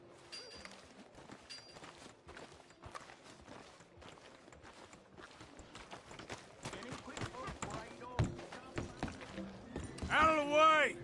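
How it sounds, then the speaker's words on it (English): Horse hooves clip-clop in a video game, a faint uneven trotting rhythm under game sounds, with voices speaking and a louder burst of activity near the end. "Damn horse."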